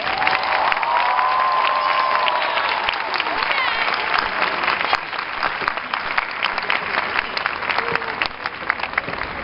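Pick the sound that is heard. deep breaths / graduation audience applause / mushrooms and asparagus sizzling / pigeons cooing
graduation audience applause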